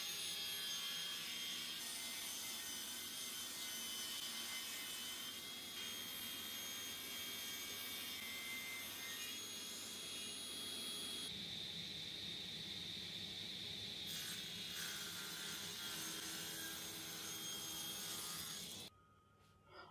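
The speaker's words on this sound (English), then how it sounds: "I run this against my table saw fence. In short, what I am doing is jointing the boards" A table saw joints reclaimed oak boards run against the fence, a steady loud whine and blade rasp through the wood that holds almost unbroken, then drops off sharply near the end.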